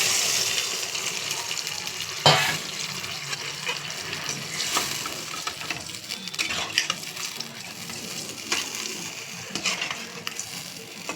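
Katla fish curry simmers in a pan after a splash of spice-rinse water, with a steady soft hiss and bubbling, the scrape of a stirring spoon, and a sharper knock about two seconds in.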